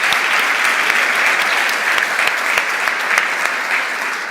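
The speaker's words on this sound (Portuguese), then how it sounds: "Uma salva de palmas para vocês que não são fiadores." Live audience at a Bible-themed wealth event breaks into dense, sustained applause, a steady wash of many hands clapping at even loudness with no talking over it.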